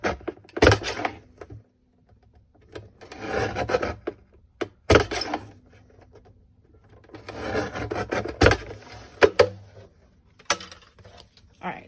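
Chipboard is cut by hand in short scraping bursts broken by sharp knocks and pauses, close and moderately loud.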